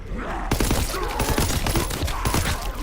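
STG assault rifle fire in Call of Duty WWII Zombies: after a brief lull, a loud, sustained stream of rapid shots sets in and keeps going with dense repeated cracks.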